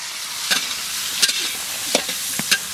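Onion frying in hot oil with cumin, bay leaf and dried red chilli, a continuous bright sizzle with a few sharp clacks of a spatula against the pan.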